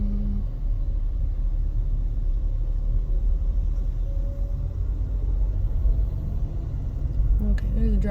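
A car drives over wires and storm debris after Hurricane Ida in Louisiana, its engine a steady low rumble inside the cabin with occasional scraping or bumps near the end, while people talk.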